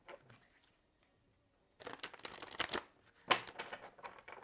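A deck of tarot cards being shuffled up close in two quick riffling bursts, with a quiet pause before them and no talking.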